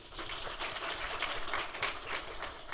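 An audience claps steadily at a public event with the state chief minister, a dense, even patter of many hands that holds at the same level throughout, with no one talking.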